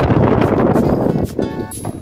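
Wind blows strongly in an old multi-storey building with a staircase, a loud, continuous rumbling gust buffeting close against the microphone throughout, with a faint ringing tone near the end.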